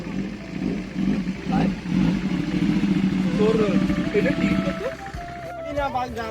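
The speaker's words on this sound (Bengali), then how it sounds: "বাইকটা আসতে দেখো" A Ninja ZX-10R motorcycle engine rumbles and revs nearby, rising and settling, with clattering and faint voices mixed in.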